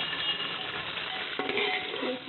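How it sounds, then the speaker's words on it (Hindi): Onions frying gently in oil for mutton pulao, a soft continuous sizzle with occasional stirring scrapes, fairly quiet and close. "इसको हम अच्छे से तेल में पका लेंगे प्याज को"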